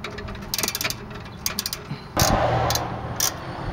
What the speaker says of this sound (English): Put in my socket wrench and just let it ride in home.